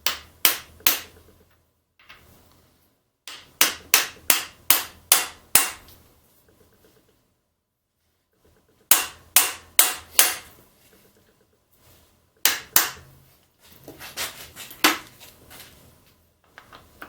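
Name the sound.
hammering on a blown LS engine in a Miata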